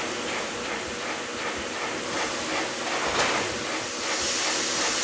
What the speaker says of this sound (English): it's put inside this machine called a shin press, which squashes that knuckle so that it's smooth and flat.